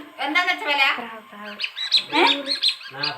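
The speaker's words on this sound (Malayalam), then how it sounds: "പക്ഷി ഇതെന്താ സാധനം" A bird calls with a series of short, loud chirps and squawks close by, overlapping with nearby voices at a family gathering.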